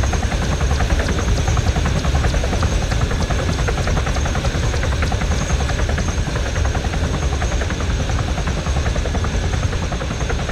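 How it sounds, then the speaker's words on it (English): A helicopter's rotor in the video game Arma 3 thrums steadily and loudly throughout, a dense continuous chopping drone with no voices over it. "Yeah, helicopters."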